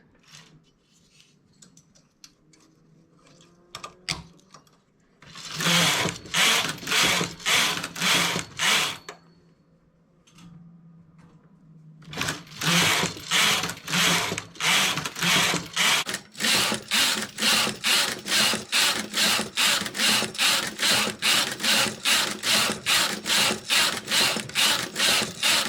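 Domestic knitting machine with the comb fitted knitting plain stockinette rows for a baby bootee, the carriage making bursts of rapid clacking and ratcheting passes, a pause, then a longer run of steady rhythmic rows, close and loud.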